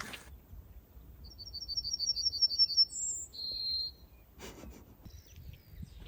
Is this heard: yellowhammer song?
yes